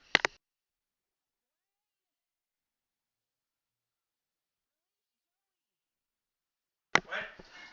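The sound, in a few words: cat meowing as it is let out the door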